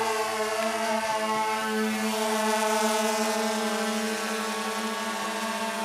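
Xiro Xplorer V quadcopter drone climbing after takeoff, a steady high-pitched propeller whine that holds a constant tone, close and loud with no talk.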